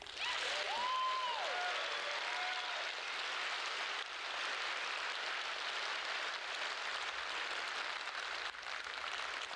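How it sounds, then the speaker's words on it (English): Audience applause fills the space in a dense, steady wash of clapping that holds level throughout, with a brief voice or whistle-like tone near the start. "Can I get a big round of applause for FC No Hope?"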